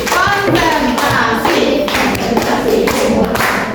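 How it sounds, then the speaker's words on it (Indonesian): A classroom of students performs the rhythmic tepuk konsentrasi clapping routine, loud sharp claps falling in short patterned groups with brief pauses, close and crisp. "Tepuk konsentrasi."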